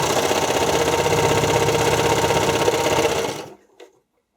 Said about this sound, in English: I'm just going to sew the length of this.